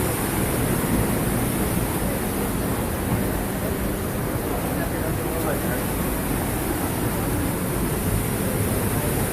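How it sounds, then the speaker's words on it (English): Water flows somewhere below in Witches Gulch, a narrow sandstone gorge in the Wisconsin Dells, as a steady, broadband rush. It holds constant with no breaks, thick and noisy. "I hear water."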